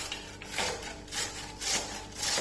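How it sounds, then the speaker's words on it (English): Potatoes are rubbed against the large holes of a grater in quick rhythmic rasping strokes, close and clear, roughly two strokes per second with no speech. "We'll begin by grating these potatoes."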